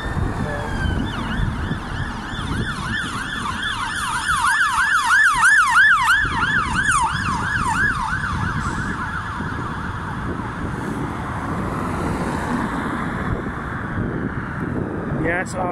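An ambulance siren wails in rising and falling cycles, loud and fairly close, with wind buffeting the microphone and a voice speaking underneath.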